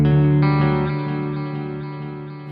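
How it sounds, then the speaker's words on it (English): Electric guitar on a clean tone through Strymon Transit delay and Galileo reverb pedals: a single sustained chord ringing out with a soft, spacious wash that slowly decays, no talk. "I'm going to need to turn on the Stratus pedal because I have the transit delay and then the Galileo reverb on there"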